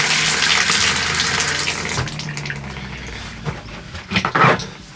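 Water runs from a travel trailer's bathroom tap while pink antifreeze is flushed out, a steady close splashing gush into the sink that thins and turns to sputtering spurts and drips near the end.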